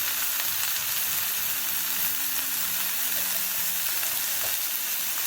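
Spices with coriander, turmeric, asafoetida, salt and garam masala roasting in a pan on a gas stove give a steady, close hiss of sizzling that runs unbroken and evenly loud throughout, with a faint low hum underneath.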